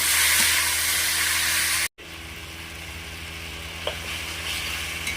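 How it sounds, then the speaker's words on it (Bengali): Spice paste with chopped tomato, salt, turmeric and chili powder sizzling as it is fried for a pangas fish curry, a steady moderate sizzle, briefly interrupted, then continuing more softly with faint stirring. "ভালোভাবে আমি মশলাটা কষিয়ে নেব।"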